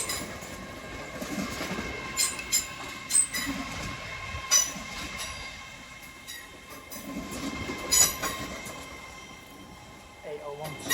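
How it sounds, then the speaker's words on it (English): A class 801 train pulls out of Doncaster station bound for Edinburgh on the East Coast Main Line, its wheels squealing and clicking over the rails under a steady rolling rumble as a voice talks over it. "And departing is 801205. That's off to Edinburgh."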